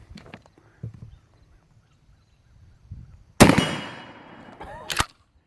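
A shotgun fires a smooth Foster deer slug at 25 yards, one sharp, loud blast that rings and decays over about a second, followed by a smaller metallic clack, with faint handling noises before it.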